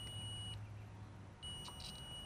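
A multimeter beeps during a continuity test on a ground wire in a Jeep Wrangler JK switch installation, giving two short, faint electronic tones with a brief gap between them over low background hum.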